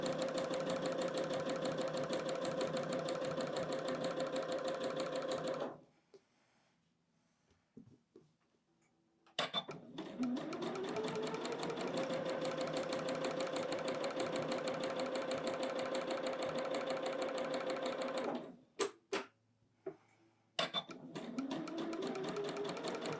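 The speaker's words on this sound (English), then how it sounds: "Now we have to turn it around and sew down the other side" A sewing machine runs in two long steady bursts, stitching down the side of a quilt block, with a quiet pause between them and brief stops near the end; no one talks.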